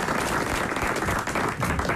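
A studio audience at a French radio game show applauds in a full, steady burst of dense clapping, close and loud, with no talking.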